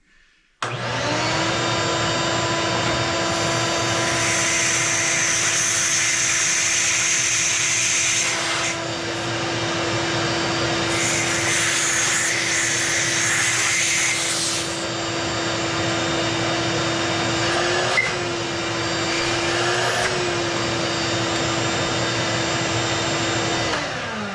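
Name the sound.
shop vac vacuuming debris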